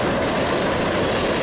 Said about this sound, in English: Here we see a southbound CSX coal train, probably headed for the mines in West Virginia.